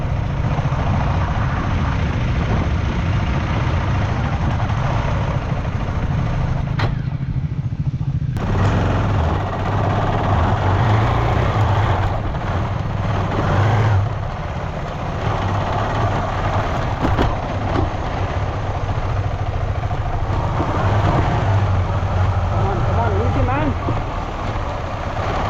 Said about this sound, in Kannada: ಕ್ಲಚ್ ಬಿಟ್ಟರೆ ಗಾಡಿ ಹಂಗೆ ಮುಂದೆ ಹೋಗ್ತಿದೆ.